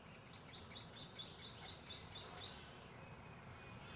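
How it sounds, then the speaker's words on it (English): Several small birds chirp in a quiet residential garden in Southern California near Hollywood, giving repeated high tweets against a faint, soft background hum. "Not a sound, just the birds."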